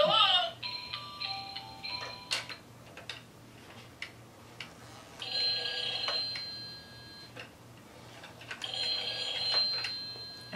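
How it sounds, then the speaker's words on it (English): A small electronic toy phone rings in repeated bursts of high, chirpy beeping tones, with soft ticking and quiet pauses between the rings. "And it even has the cute ringing sounds."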